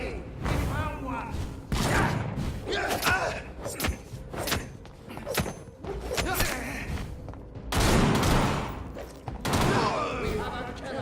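Gunfire in the video game Vampyr, a string of sharp shots and heavy thuds in bursts, loud and close amid combat, with voices calling out between them.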